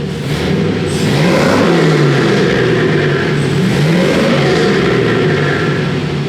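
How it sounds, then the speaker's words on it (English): An LS V8 engine revs steadily through a newly fitted exhaust muffler, a loud, continuous low rumble with rising and falling pitch close by. "I like the sound of that muffler too."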